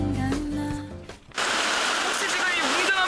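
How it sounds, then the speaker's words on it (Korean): The Hantan River in Cheorwon rushes loudly as a steady, dense roar of water. It cuts in abruptly after a brief stretch of tonal music and continues unbroken. "혹시 지금 이 웅장한 물소리 들리시나요?"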